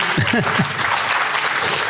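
An audience at a public lecture evening on energy transitions claps in a short, steady burst of applause, with a voice speaking briefly at the start.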